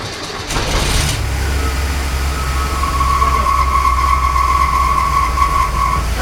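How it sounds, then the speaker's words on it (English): A 1965 Ford Falcon engine cranks briefly and catches, settling into a steady low rumble with a faint whine rising over the idle. "just start the engine"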